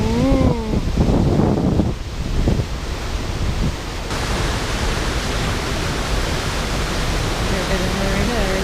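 Wind gusting on a cloudy, blustery day outdoors: a steady broadband rush that fills the whole clip, with a voice speaking briefly over it at the start.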